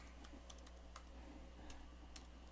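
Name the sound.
typing a password on a computer keyboard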